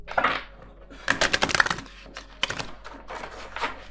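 A deck of tarot cards is shuffled by hand, bursts of crisp riffling and tapping clicks in short clusters with brief pauses between, close and dry.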